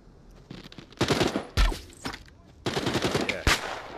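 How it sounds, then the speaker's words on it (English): Weapons firing in The Walking Dead Saints & Sinners VR game: several bursts of gunfire with a sharp report and echo, spaced unevenly and moderately loud, with no speech over them. "Who's firing that weapon?"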